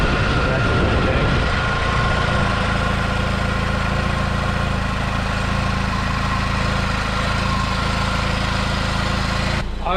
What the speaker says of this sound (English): we got a nice running Saab